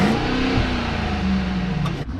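A Maybach GLS600 or BMW Alpina XB7 SUV engine hums and revs steadily, heard from outside the vehicle, a sustained mid-pitched drone that drops off near the end.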